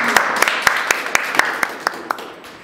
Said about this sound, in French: Applaudissons-le s'il vous plaît.